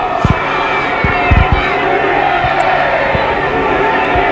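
A partisan rugby league crowd at Wilderspool, Warrington, during a 1996 match against Halifax: a steady roar of cheering and shouting throughout, with a few sharp thumps standing out from the noise.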